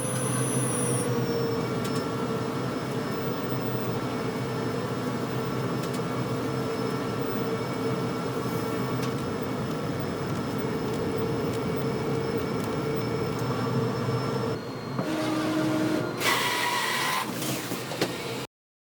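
A large-format printer lays down a gallery-wrap canvas print with a mirrored edge, giving a steady, loud mechanical drone with faint whirring tones; near the end the carriage shifts and clatters in several brief bursts before the sound cuts off.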